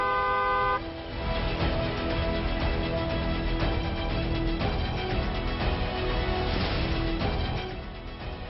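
Car horns honking in traffic: a brief sustained horn tone at the start, then a dense stretch of overlapping toots and honks over steady road noise, loud and continuous until it fades slightly at the end.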